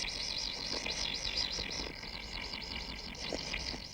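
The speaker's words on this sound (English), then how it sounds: "the din made in the nest may be clearly heard for some distance outside" Young kingfishers call noisily from inside their nest, a dense, continuous wavering chorus of high, rapid chirps with rhythmic rising and falling trills, loud and close throughout.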